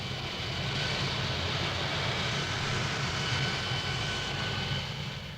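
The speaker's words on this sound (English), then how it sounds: "the astronauts practice hovering in this elaborate version of the flying bedstead" The flying bedstead lunar landing trainer hovers with a loud, steady engine roar that holds evenly throughout without a break.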